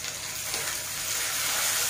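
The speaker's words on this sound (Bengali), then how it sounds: "আলু ভাজাটা না পুড়ে যায়" Potatoes frying in a worn, thin wok, giving a steady, close hiss of sizzling oil with no pause and no voices.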